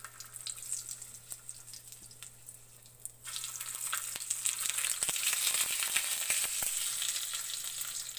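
Indomie Mi Goreng noodles go into a hot pan and begin to sizzle. A quiet background hum jumps to loud, steady frying after a few seconds, with scattered clinks of stirring.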